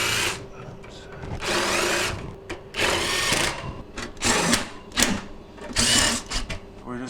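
Power drill driving screws to secure the sharp back panel of a Jenn-Air refrigerator, heard as several loud whirring bursts of a few seconds each with short pauses between, a person speaking between them.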